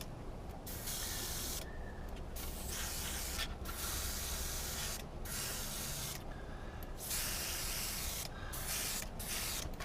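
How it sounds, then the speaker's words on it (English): Airbrush hissing paint onto a Saturn V scale model in a run of short, steady spurts separated by brief pauses, close and fairly loud with no talking. "I'm not trying to do a blast, blast, blast. I'm actually taking small spurts."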